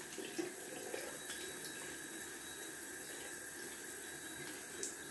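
Cold tap water runs and splashes steadily in a sink during a wet shave with a Gillette Fatboy razor, a continuous close hiss with a few small splashes and no talking.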